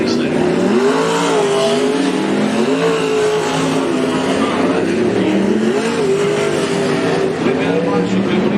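Race cars roar around Cottage Grove Speedway during an 8-car, 10-lap race, engines revving and falling in repeated pitch sweeps, loud and continuous, with a voice faintly present beneath.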